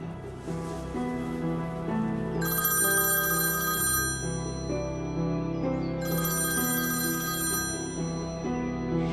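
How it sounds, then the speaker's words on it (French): An electronic telephone ringtone plays on a call, two long bright melodic ringing bursts separated by a pause, over a soft steady tonal background, fairly close and alone without speech. "Je vais essayer de rappeler John"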